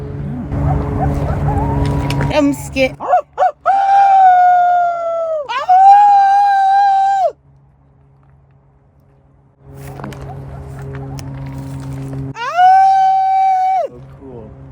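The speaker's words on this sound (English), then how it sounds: "That's a real coyote?" Coyotes on an Arizona mountaintop let out long, wavering howls and yips in two bursts, fairly close and loud against a quiet night, with a nervous voice speaking briefly before the first howl.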